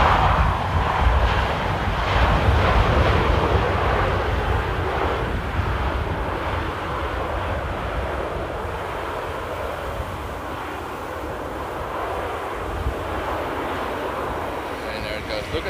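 An Airbus A321 airliner passes at Amsterdam Airport with a steady, broad engine roar that gradually fades, with wind buffeting the microphone and a voice talking over it.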